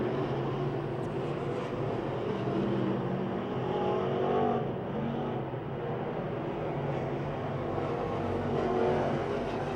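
Race cars lapping the oval at Pennsylvania Motor Speedway near Pittsburgh make a steady, fairly distant engine roar with little variation. A faint swell partway through suggests a pack passing.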